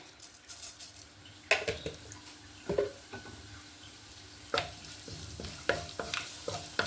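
Small cinnamon pieces and cumin seeds fry in a pan while cooking coriander leaf rice, giving a soft, steady sizzle close by, broken by sharp spoon clinks and scraping stir strokes against the pan, with no talking.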